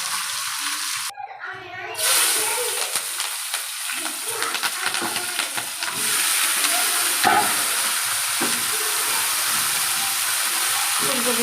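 Cauliflower frying in a pan with a steady loud sizzle and hiss, punctuated by scraping stirs and occasional clinks of the utensil against the pan, with faint voices in the background.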